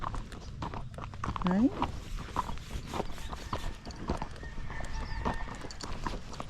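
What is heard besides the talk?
Tennessee Walking Horse mare walking, hooves clip-clopping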